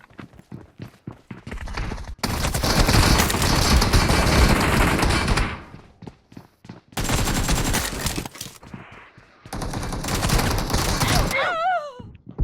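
Bursts of automatic gunfire in the BGMI battle royale game, three long loud volleys of rapid shots separated by brief gaps, with sharp single shots and short in-game speech between them.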